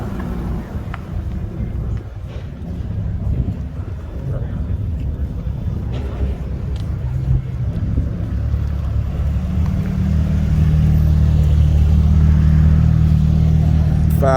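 A Lamborghini SUV at an exotic car festival rolls past, its engine a deep rumble under outdoor crowd noise and nearby talk, swelling into a louder, steady drone toward the end.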